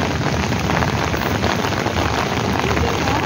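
Heavy rain falls steadily, a dense, loud, even hiss of drops striking surfaces close by, continuous throughout with no voices.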